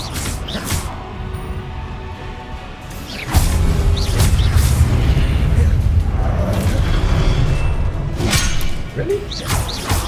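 Confringo spell explosion in the video game Hogwarts Legacy: a sudden loud blast followed by a sustained low rumble and crackle, with whooshing spell sounds and brief game effects around it.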